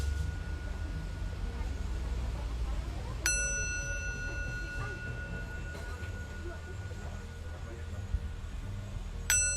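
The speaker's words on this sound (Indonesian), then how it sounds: "Saya akan menyalakan genta sebelum saya memulai" A meditation bell is struck twice before prayer, each strike ringing out clear and sustained with a long shimmering decay, under a low background hum.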